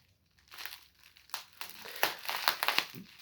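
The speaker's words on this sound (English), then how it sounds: "cut this one while I've got the scissors." Plastic packaging crinkled and cut with scissors while precious metals are unboxed, a quiet series of crackling, snipping bursts growing busier toward the end.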